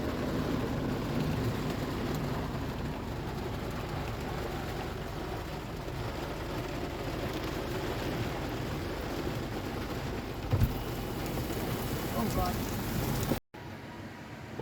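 Steady heavy rain falls during a thunderstorm at a race track, a dense close wash of drops with a faint rumble, while a voice talks over it briefly.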